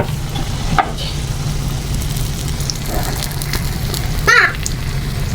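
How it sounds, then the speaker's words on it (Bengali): Mughlai paratha fry in a shallow layer of oil, a steady crackling sizzle running throughout, with a few brief scraping or clinking touches near the pan. "অল্প তেলে মুগলাই বাছবো"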